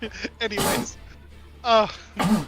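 A single sharp sneeze bursts out close to the microphone amid casual talk from players at a tabletop role-playing session.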